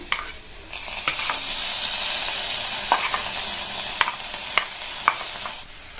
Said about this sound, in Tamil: முட்டைக்கோஸை சேர்த்துட்டு நல்லா இந்த மாதிரி கலந்து கொடுத்துருங்க